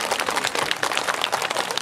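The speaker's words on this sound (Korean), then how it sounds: "박수 한번 주세요" An audience at an outdoor cultural festival stage show claps steadily, a dense patter of many hands filling the whole moment without pause.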